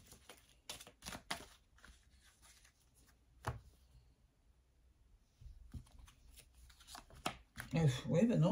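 A Madoz oracle deck being shuffled by hand: repeated quick riffling and slapping bursts of cards, close and moderately loud, pausing briefly midway before a denser flurry, with faint voice in the background.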